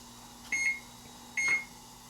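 Two short electronic beeps from an oven timer as it is set, spaced about a second apart, clear against a quiet kitchen background while sweet potatoes with raisins go in to bake.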